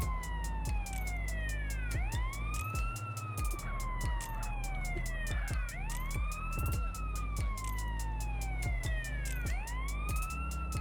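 An ambulance siren in GTA San Andreas wails in repeated rising and falling sweeps, each cycle about two seconds long, loud and continuous over a low engine drone.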